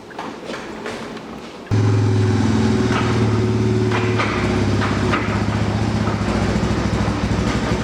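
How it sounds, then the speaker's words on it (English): A Honda Fourtrax 300 ATV rear end being spun by hand, with loose parts rattling inside; a steady mechanical clatter and rumble starts abruptly after a quieter stretch of tapping and continues loud and close to the end. "You can hear a little bit of stuff rattling around inside there though."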